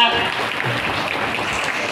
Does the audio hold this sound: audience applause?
yes